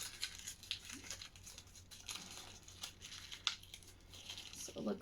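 Paper crinkled by hand into a small round ball for stuffing a Halloween cardboard spine disc, with repeated close crackling and rustling bursts over a soft steady background hum.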